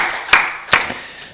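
Congregation at a Wednesday worship service clapping in church, a few sharp, loud handclaps spaced unevenly over a low room background, close and without voices.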